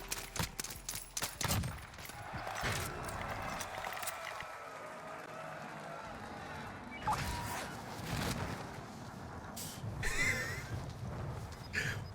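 Rapid bursts of automatic gunfire from a Call of Duty Warzone match, clustered at the start and returning in scattered volleys later, with a dense game soundscape underneath.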